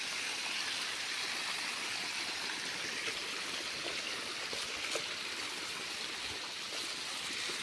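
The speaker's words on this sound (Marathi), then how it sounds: "हौद भरून ठेवायचेत पाण्यानं" Constant rushing of water pouring to fill a tank, a steady even hiss with no pauses or voices.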